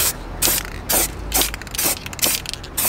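An aerosol spray paint can is shaken hard in a garage before painting a rear bumper diffuser on a performance Ford hot hatch, the mixing ball rattling in five loud, regular bursts with short pauses between.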